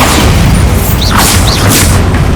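Bombarda spell explosion in Hogwarts Legacy, a loud sustained booming blast with dense crackling noise filling the whole moment, with no pause or quieter stretch.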